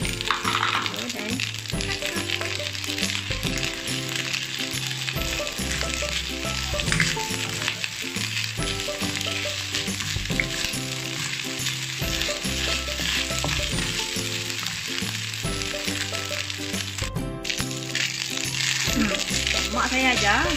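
Fried rice with egg sizzling steadily in a pan, a constant close frying hiss with repeated metallic scrapes and clinks of a spatula stirring, running continuously throughout.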